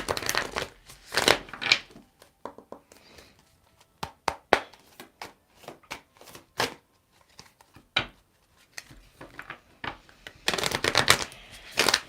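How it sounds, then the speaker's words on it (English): Tarot cards being shuffled in repeated bursts of riffling and flicking, loud and close, with pauses between shuffles and no talking. "Okay, one more shuffle."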